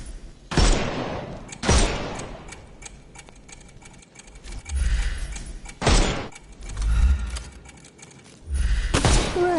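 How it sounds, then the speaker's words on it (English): Shots fired at armoured enemies in a Sherlock video game ring out as five or six loud, sharp bangs spaced roughly a second apart, with low rumbling in between. "Shoot off their armour."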